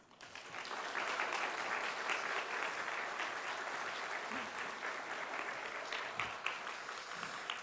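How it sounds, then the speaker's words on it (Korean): A church congregation at a summer revival meeting gives sustained, steady applause to welcome the pastor, a dense wash of many hands clapping that fills the room for several seconds with a faint voice underneath. "우리 나오실 때 크게 환영의 박수, 감사의 박수로 우리 환영해 주시면 좋겠습니다."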